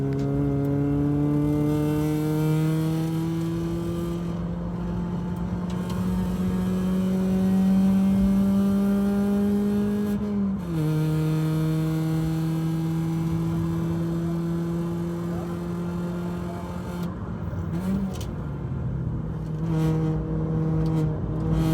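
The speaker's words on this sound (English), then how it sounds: "But yeah, enjoy Leo's, well, kind of hot lap if you like, but certainly the fastest lap of the day for Leo." Renault Twingo RS lapping hard at Castle Combe circuit, its engine droning loud and close with repeated rising revs, gear-change dips and brief lifts, continuous throughout.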